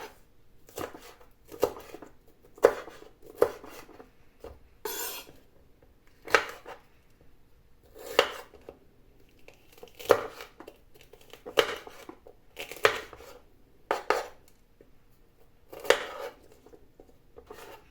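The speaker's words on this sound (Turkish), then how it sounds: "böyle jülyen şekilde iri iri doğruyoruz" A knife chops peppers into julienne strips on a board in irregular sharp cuts, with crisp crunches and short pauses between strokes.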